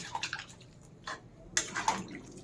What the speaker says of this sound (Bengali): এবার এই জলটা দিয়ে দিলাম